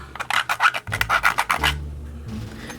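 A jeweler's file rasps across 1/8-inch plexiglass in about a dozen quick, close back-and-forth strokes, followed by a brief quieter scrape.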